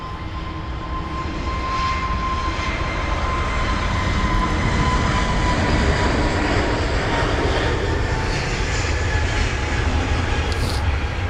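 An Airbus A320neo jet at London Heathrow gives a loud, steady engine roar that holds unbroken throughout, with a faint tonal whine running through it.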